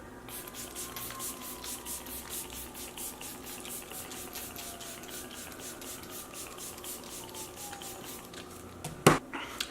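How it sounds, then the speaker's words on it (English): Kat Von D Lock-It setting spray mists in a quick, even series of short spritzes repeating for several seconds, ending with a louder clack nearby. "I spray my Kat Von D Lock-It Setting Spray"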